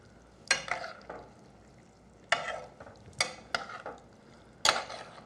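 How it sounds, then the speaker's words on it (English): Crawfish being stirred in a pot with their fat, heard as a few separate scraping, rattling strokes in uneven bursts, fairly close, with quiet gaps between them and no voices. "Stir this up real good."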